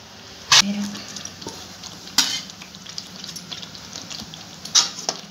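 Curd is stirred into palak paneer curry in a pan, with a soft sizzle underneath and three sharp spoon clanks against the metal spread across a few seconds.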